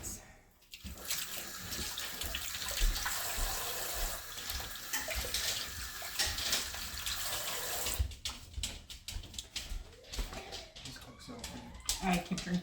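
Kitchen tap runs steadily while hands are washed during meal prep, a close, continuous rushing hiss that is broken up by splashing and clatter partway through, with some talk mixed in.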